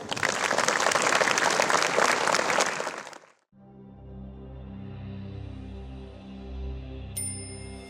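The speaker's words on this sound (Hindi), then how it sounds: "आइए हम इस नृत्य नाटिका प्रस्तुत करने वाली छात्र छात्राओं की मंडली को तालियों की गड़गड़ाहट से प्रोत्साहित करें।" An audience applauds a student dance drama, with dense, loud, sustained clapping for about three seconds that stops abruptly, followed by quiet musical tones.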